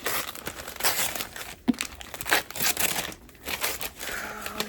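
A book mail package is torn and crinkled open by hand, with irregular bursts of ripping and rustling paper or plastic, close and fairly loud, separated by short pauses.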